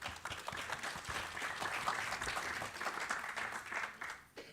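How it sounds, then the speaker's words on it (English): An audience at a panel talk on entrepreneurship applauds, a dense, continuous patter of many hands heard faint and distant, fading at the end. "let's hold the applause to the end"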